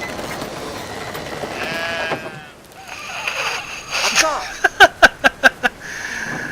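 Sheep bleat in the video game Brothers: A Tale of Two Sons, a short run of quick, loud, evenly spaced bleats that follows a stretch of game noise and rumbling ambience.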